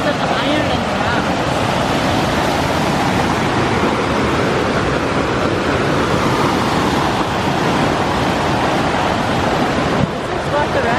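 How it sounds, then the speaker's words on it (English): Iron-colored water spills down the root beer waterfall in a steady, loud roar of rushing water with constant wind buffeting the microphone outdoors. "this is the root beer waterfall"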